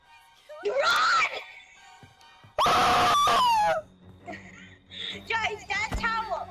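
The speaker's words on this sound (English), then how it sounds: "that's how Third Princess screams when she sees" A character named Third Princess screams, a high shrill wail that rises and falls in two loud bursts, followed by quieter wavering cries over background game sounds.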